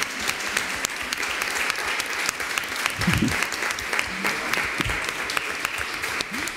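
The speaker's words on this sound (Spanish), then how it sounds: "yo pido un, vamos, un fuerte aplauso para ella." An audience at a political autumn-school talk breaks into strong applause, a loud continuous crackle of many hands with a few sharper individual claps and faint voices mixed in.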